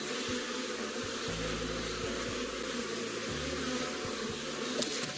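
Bees buzz close by, with several droning tones rising and fading as individual insects pass near, over a constant hum of many more.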